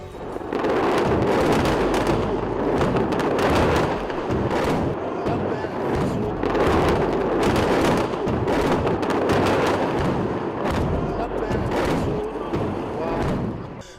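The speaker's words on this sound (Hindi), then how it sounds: "हिजबुल्लाह ने रॉकेटों का जत्था फायर किया" Hezbollah rocket barrage launched toward IDF bases in northern Israel, heard as a dense, continuous roar of repeated booms and thuds throughout, loud and sustained with surges of intensity.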